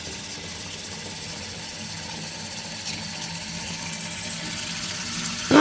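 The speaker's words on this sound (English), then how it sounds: "It looks like that water's going down. I see a little bit of a swirl going on there." Water drains steadily down a freshly plunged and cleared drain pipe, a continuous close gurgling rush that holds throughout and swells louder at the very end.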